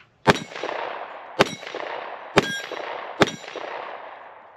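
Four loud, sharp shots from a Smith & Wesson Performance Center M&P 2.0 ported 10mm pistol with a 5.6-inch barrel, fired at a steady pace at an outdoor range, each with a ringing, metallic decay.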